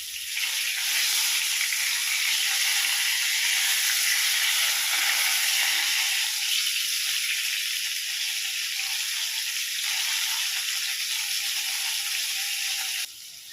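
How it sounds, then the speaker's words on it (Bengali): Eggplant slices sizzle steadily in hot white oil after being flipped in a pan, a dense, continuous frying hiss that holds even throughout with no talking. "ঠিক একইভাবে উল্টো সাইডটাও আমি ভেজে নেব।"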